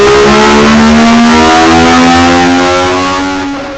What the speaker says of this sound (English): check out this engine shop and this horsepower of these Legends cars